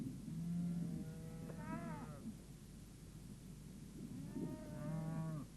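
Cattle on Hopi land moo twice in long, low drawn-out calls separated by a quiet gap, faint and distant over a soft background rumble.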